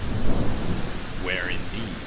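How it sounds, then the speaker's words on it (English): Rolling thunder rumbles low and continuous over steady rain in a thunderstorm, with a brief higher tonal sound partway through. "Where did that storm come from?"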